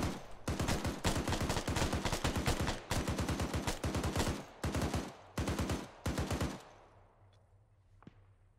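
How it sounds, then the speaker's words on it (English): Sustained automatic gunfire from an Arma 3 firefight, dense rapid bursts of machine-gun fire in several long strings with short gaps, loud and close, ending abruptly before a faint distant shot. "Alright, we're taking fire."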